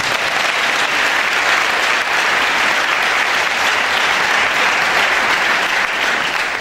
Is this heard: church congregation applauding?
yes